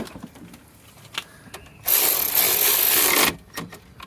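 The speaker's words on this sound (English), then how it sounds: "then use the ratchet because you don't want to strip the bolt" A ratchet tightening a 10 mm bolt on a car's driver-side strut gives one loud, rapid, continuous buzzing run of about a second and a half, with isolated clicks before and after.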